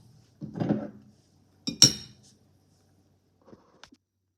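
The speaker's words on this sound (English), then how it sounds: "We'll put a plate over this and let it finish steaming." A plate goes over a pot of steaming rice in a kitchen, with a couple of close ceramic knocks and a bright clink, then a few faint small taps after a pause.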